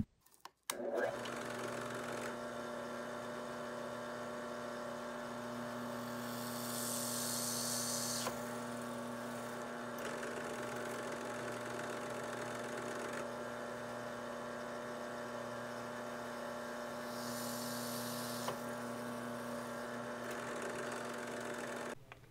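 A small electric drill whirs steadily for a long stretch, boring holes in a guitar amp turret board, its high motor whine rising slightly in pitch now and then as it bores through.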